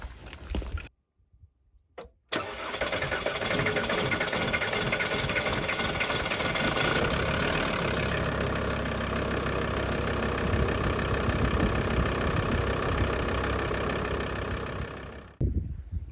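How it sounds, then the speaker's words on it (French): A car engine that has sat unused for a while, heard cranking after a short silence, then catching and settling into a steady, loud, close idle that runs without pause before cutting off at the end. "comme vous avez entendu, il a eu du mal à démarrer"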